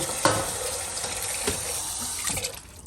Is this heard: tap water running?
yes